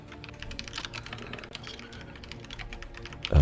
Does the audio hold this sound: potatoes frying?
no